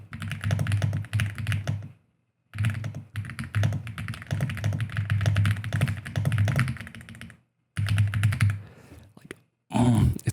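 Rapid clacky typing on a 70% mechanical keyboard, close and loud, in steady bursts separated by brief pauses.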